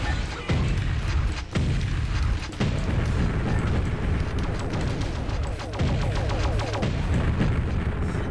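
A golden shotgun fires repeatedly in a Doom mod video game, heavy booming blasts coming in a rapid, nearly continuous barrage with loud explosive impacts and brief gaps between volleys.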